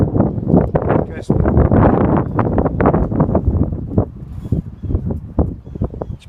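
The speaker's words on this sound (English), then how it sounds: "It's pretty windy, isn't it?" Gusty wind buffets the microphone outdoors with dogs and a person nearby, a loud broadband rushing roar that surges and swells throughout, with speech woven in underneath.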